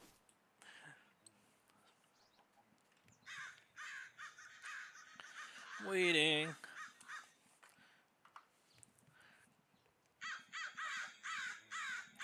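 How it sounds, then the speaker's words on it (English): Crows caw repeatedly in a modded Minecraft world, a loud harsh call near the middle and further bursts of cawing toward the end, with a voice speaking briefly in between. "That's a lot of crow sounds in one mod pack"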